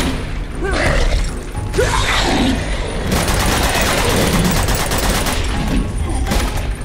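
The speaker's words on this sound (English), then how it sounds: "Oh, you don't like gunshots." Sustained gunfire fills a firefight in the video game Uncharted 2: Among Thieves, loud rapid bursts and overlapping shots with mechanical clatter running almost without pause.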